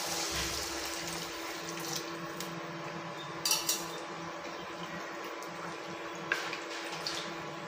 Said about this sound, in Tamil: இப்போ நான் 2 டம்ளருக்கு 4 டம்ளர் தண்ணி ஊற்றலாம்